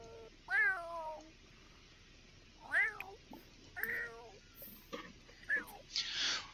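Several cats meow in The Sims 4, giving distinct rising-and-falling cries spaced a second or two apart, fairly close and moderately loud, with a burst of hissy noise near the end.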